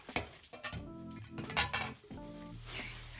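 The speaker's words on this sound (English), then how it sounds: "So this is the pot." A large metal cooking pot is unboxed and handled, and its lid is moved about too. Close clanks and scrapes of metal ring out repeatedly with short resonant tones.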